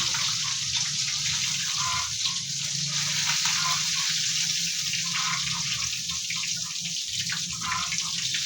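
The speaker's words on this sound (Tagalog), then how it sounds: "Ano yung niluluto natin mga boss na prito? Pritong isda." Fish sizzles and crackles steadily in hot oil, a constant close frying hiss with no talking.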